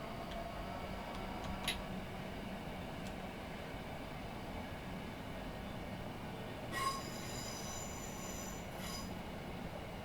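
Simulated Class 707 electric multiple unit on the South West Mainline rolls into New Wimbledon station, a steady low rumble of wheels on track with faint ticking and a brief high whine of brakes or wheel squeal late on.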